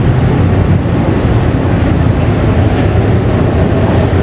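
Loud, continuous rumble and roar of a train riding through Barcelona, a steady dense rolling noise from close range with no breaks.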